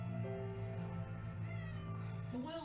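A male house cat meows in a long, drawn-out call, followed by a second rising meow near the end. Both come close and clear over a steady low background hum.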